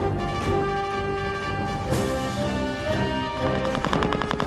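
Gunfire rattles during a commando raid on Dieppe, with repeated machine-gun-like bursts and shots that grow denser toward the end, heard fairly close and loud over a sustained tonal background, with no talk.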